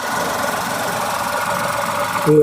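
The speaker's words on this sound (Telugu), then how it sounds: "ఇంజన్ సౌండ్ కూడా చూడండి, బీట్ ఎక్సలెంట్ ఉందండి. పెట్రోల్ వర్షన్ అండి" A 2018 Tata Tiago XM petrol car idles with a steady, even engine hum and a faint ticking beat, recorded up close, continuous for a couple of seconds before a brief clunk at the end.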